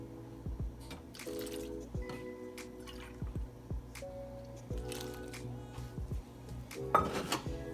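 Wet squishing and clinking as a utensil mixes two cups of Bisquick with two cups of milk in a mixing bowl, in irregular close strokes with occasional scrapes against the bowl.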